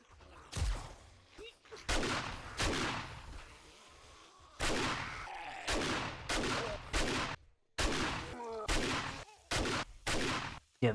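Rapid bursts of gunfire from the 7 Days To Die video game, including magnum and shotgun shots, loud and close, arriving in repeated volleys with short gaps between them.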